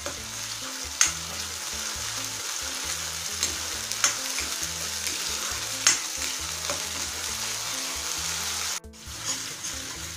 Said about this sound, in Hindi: प्याज, अदरक, लहसुन, हरी मिर्च और काजू का जो पेस्ट तैयार किए हैं उसे हम आहिस्ता डाल देते हैं इसमें। और इसे हम हल्का भून लेते हैं।